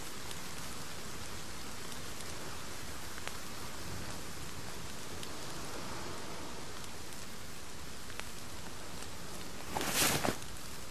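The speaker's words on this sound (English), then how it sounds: "Fucking rain." Steady rain patters in The Forest game, a soft continuous hiss of drops across the whole stretch, with a brief louder burst near the end.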